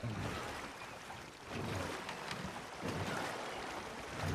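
A boat travels across open water in the video game Red Dead Redemption 2, with a steady rush of water and wind and two swelling surges of wash as it moves along.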